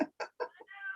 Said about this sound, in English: I have a really rude kitty behind me.